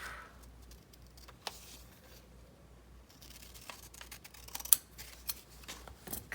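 Scissors snip through magazine paper for a collage glue book, a few sparse, crisp cuts and paper rustles in a quiet room, with louder snips toward the end.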